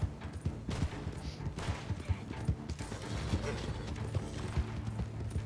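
Horse hooves gallop in Red Dead Redemption 2 online, a steady rapid clip-clop rhythm running throughout over a busy game soundscape, with faint gunfire-like bursts and a brief whinny in the mix.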